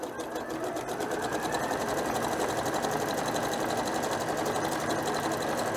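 A sewing machine stitches a fabric scrubbing pad with a very short stitch length, a steady, fast mechanical whirr running continuously and close up with no pauses.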